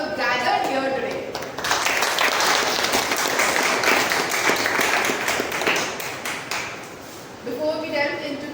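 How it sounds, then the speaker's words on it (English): Applause from the audience at a Toastmasters club meeting swells after brief speech into several seconds of steady, close clapping, then tapers off as talking resumes near the end. "So a huge round of applause for each one of us who have gathered here today."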